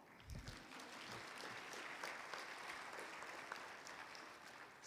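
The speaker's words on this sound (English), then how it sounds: "So now you can clap." Audience applause at an affordable housing summit opening plenary, a steady wash of clapping from a crowd that holds evenly for about five seconds, distant and moderately loud, with no talking over it.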